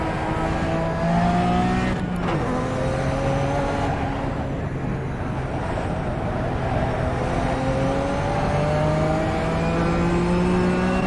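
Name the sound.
race car engine in a video game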